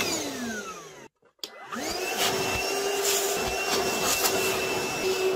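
A Milwaukee M18 cordless vacuum runs with a steady close whine that cuts out briefly and then restarts, holding a constant motor drone to the end, with no talking.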